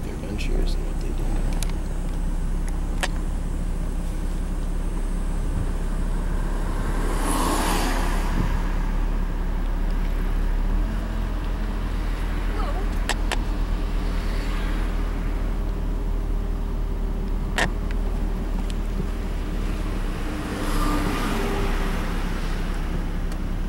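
A Cheshire Sheriff's Department patrol vehicle in New Hampshire rolls along nearby with a steady road and engine hum throughout, occasional passing-traffic swells, and faint voices in the background.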